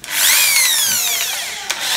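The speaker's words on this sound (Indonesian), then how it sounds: "Itu yang saya katakan bor itu bolak-balik." An NRT Pro electric drill runs up to speed, a loud close whine with a steady high motor tone that slowly drops in pitch, then a brief click near the end.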